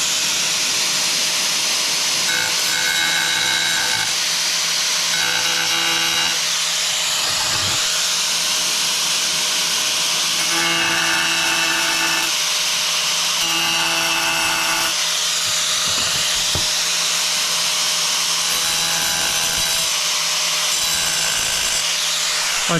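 An angle grinder cuts a hole in thin, brittle tile with a loud, continuous high-pitched whine and gritty abrasive hiss that rises and dips in pressure over the cut, close and without voices.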